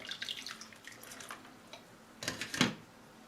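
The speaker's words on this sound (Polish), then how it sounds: "Temperatura jest zbyt wysoka, więc dodam trochę zimnej wody." Cold water splashes and pours into a pot in short bursts, with a louder gush near the end, close by and without speech.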